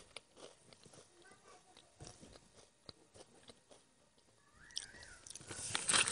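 Crunching on Jagabee honey mild potato snack sticks, faint and close with soft bites and chewing that grow louder and denser toward the end, in an otherwise quiet room.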